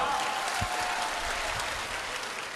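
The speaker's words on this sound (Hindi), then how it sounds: "हाँ, तो एक बार जोरदार ताली बजाओ" A large religious gathering's audience bursts into loud, sustained applause, a dense wash of clapping close and steady throughout with no break.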